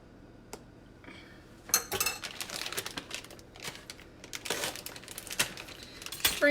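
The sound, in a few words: pecans sprinkled on top of no bake banana split dessert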